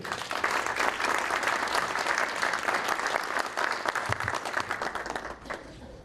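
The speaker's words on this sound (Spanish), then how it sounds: "Lo recibimos con un aplauso" An audience applauds to welcome a speaker at a lecture about the Virgin of Guadalupe, with steady, dense clapping that holds strong throughout and eases only slightly near the end.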